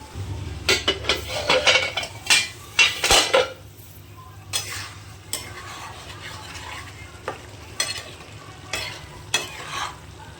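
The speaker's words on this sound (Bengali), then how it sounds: "ভালোভাবে নেড়ে নেব। ভালোভাবে সেদ্ধ হতে থাক।" Pumpkin mixed-vegetable ghonto being stirred in a pot: a spoon scrapes and clinks against the metal in bursts, busiest early on, with a soft cooking sizzle beneath and no talk.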